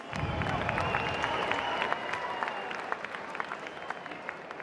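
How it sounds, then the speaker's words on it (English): At a boxing event, a large arena crowd applauds two lightweight fighters, a broad steady roar of clapping with scattered shouts and cheers that gradually eases off. "can we please have a round of applause for these two lightweight warriors?"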